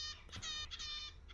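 Finches in a large outdoor aviary give a quick series of thin, high chirps and tweets, fairly faint and close together over a soft background hiss.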